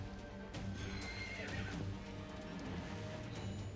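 A horse in a video game gallops with steady clip-clop hoofbeats and lets out a neigh, heard over a continuous low game background.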